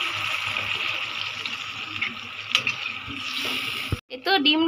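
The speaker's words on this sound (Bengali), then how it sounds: "তো ডিমে পানি দিয়ে দিচ্ছি।" Bengali dim bhuna egg curry sizzles steadily in a pan of cooked-down spice masala, then water is poured in near the end, breaking the hiss with a brief splashing gush.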